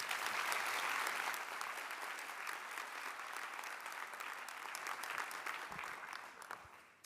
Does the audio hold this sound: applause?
yes